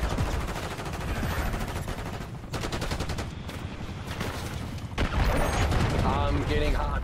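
Rapid automatic gunfire from the video game Black Ops 6 crackles in dense bursts throughout, with brief pauses between volleys and a louder flurry near the end.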